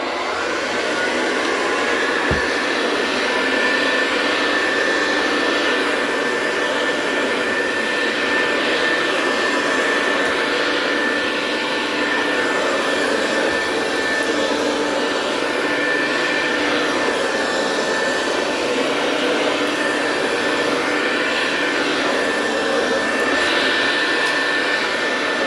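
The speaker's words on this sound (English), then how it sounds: "the hoover's making some nice carpet lines here" A commercial vacuum cleaner runs steadily on carpet, a loud continuous motor whine with a sustained tone and airflow roar that holds without a break throughout.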